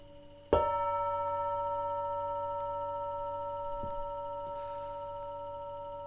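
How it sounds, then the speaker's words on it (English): A single gong strike rings out sharply, then its steady metallic tones sustain and slowly fade, with a few faint knocks in the quiet background. "as you hear the gong"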